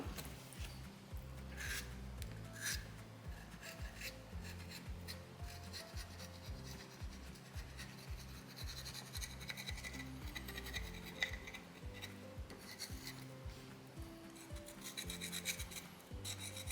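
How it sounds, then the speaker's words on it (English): Steel rasp filing a soapstone owl carving, reshaping the beak, in repeated scraping strokes at a close, even rhythm, heard alone without talk. "I'm just going to use my rasp right now"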